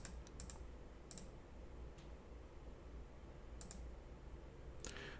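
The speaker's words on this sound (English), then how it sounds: "left clicking to get this." Mouse left-clicks while working in Blender 2.93: a few sharp, faint clicks scattered over a few seconds against a steady low hiss of room noise.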